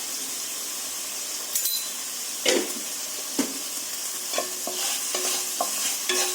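Raw banana vegetable cooking in a pan sizzles close by, with utensil scrapes and clinks from stirring that come in uneven bursts over the hiss.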